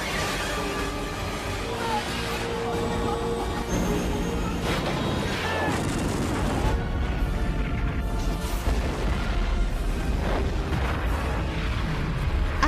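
Heavy rumbling blasts and crashing booms roll over one another, a dramatic, dense explosion near a mako shark enclosure, with debris-like crackles and low thunder.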